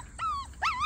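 Two high, rising-and-falling yips from 7-week-old Schnoodle puppies, each a short whining cry, close and fairly loud with a brief pause between them.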